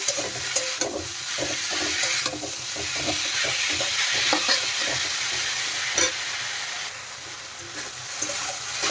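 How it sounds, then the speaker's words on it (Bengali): Steady sizzling of potatoes frying in a pan, with scraping stirs and clinks of a utensil recurring throughout; no voices. "আলুগুলো দিয়ে দেওয়ার পরে আরেকটু নেড়ে থেকে আমি কষিয়ে নেব"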